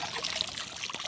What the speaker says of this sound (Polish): odcedzić blitwę z ziemniakami. Gdzie to odcedzić? No najlepiej tutaj.